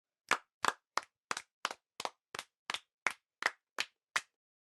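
Classroom children clap together in a crisp, evenly spaced rhythm of about eleven sharp claps, close and clear with silence between them.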